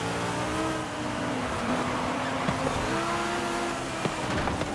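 A 1,200-horsepower V10-swapped Ferrari 458 Italia in Forza Horizon 5 races hard, its engine screaming and shifting through steady high revs with a brief tire chirp, loud and continuous.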